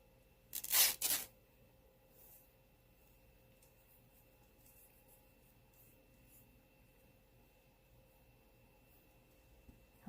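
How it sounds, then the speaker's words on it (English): Old, fragile fabric tears in a short ripping burst near the start, with two quick pulls close together, followed by a long quiet stretch and a faint rustle at the end. "I like the way it tears."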